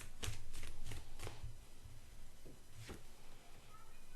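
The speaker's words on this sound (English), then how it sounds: "Right, I'm still shuffling." Tarot cards being shuffled by hand, a series of crisp riffling bursts and soft slaps close up, with quiet pauses between, at moderate level indoors.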